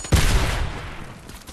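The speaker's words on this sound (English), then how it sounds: "this is a new weapon right here. And the sticky grenade launcher." A sticky grenade launcher fires in the Fortnite video game, one sharp loud blast with a brief rumbling tail that fades within about a second.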